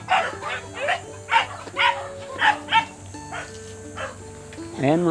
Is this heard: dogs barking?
yes